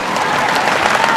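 A studio audience at a 2013 Vietnamese celebrity duet singing competition applauds a pair of performers, a close, full, steady roar of clapping hands throughout the short stretch.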